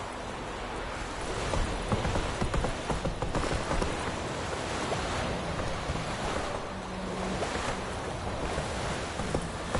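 A horse galloping in The Witcher 3: a continuous rushing wash of hoofbeats and wind-like noise at steady loudness throughout, with no talk.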